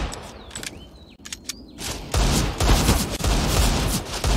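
Pistol fire at close range in Counter-Strike during a pro match, several sharp shots cracking in quick succession, then dense overlapping gunfire as the fight intensifies.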